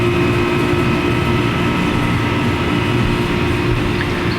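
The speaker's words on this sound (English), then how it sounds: "And I do apologize for the humming noise you hear in the background. That is my neighbor's AC unit." A neighbor's air conditioning unit next door, heard from beneath a deck in a small city garden, drones with a constant, loud low hum and no pauses.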